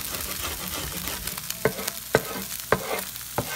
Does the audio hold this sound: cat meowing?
no